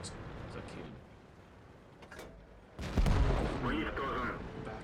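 A heavy boom of a tank cannon firing in World of Tanks from an Object 430, followed by rumbling impact noise, with someone talking quietly over the battle.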